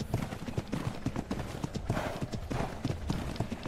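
A horse in the survival game Ark: Survival Evolved clip-clops with a steady, brisk rhythm of hoof strikes, close and clear, with no talking over it.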